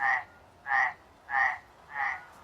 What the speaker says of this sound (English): The sound of frogs croaking came from a distance